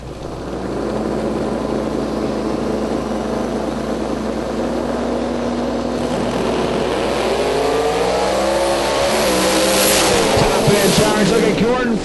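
A 1996 Corvette drag car with a 738 cubic inch nitrous engine roars down the strip at a drag racing event, a loud sustained engine howl that rises in pitch toward the end of the run.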